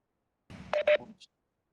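On a class conference call, a phone keypad gives a few quick touch-tone beeps as a line is unmuted, brief and fairly quiet against silence.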